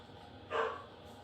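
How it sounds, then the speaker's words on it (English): One bark from a dog, somewhat distant and muffled, breaks through quiet background noise. "Sorry for the dogs barking."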